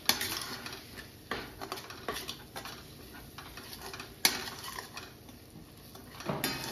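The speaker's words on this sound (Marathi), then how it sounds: "हे बघा किती छान मसाला परतला जातो" Homemade masala being sautéed for chole in a pan, heard as soft scraping and stirring with occasional sharper clinks of a spatula against the pan, steady and close.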